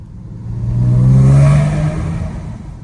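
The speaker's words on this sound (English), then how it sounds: "being engine noise" Engine of a Porsche 986 Boxster pulling under acceleration: one rising, loud, close mechanical drone that swells to a peak, then eases off slightly as the car keeps going. No voices are heard.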